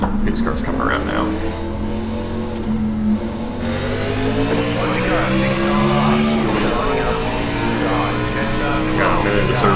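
A NASCAR Xfinity race car at Atlanta Motor Speedway in iRacing revs and accelerates, its loud engine tone rising and falling across the run while a voice talks over it.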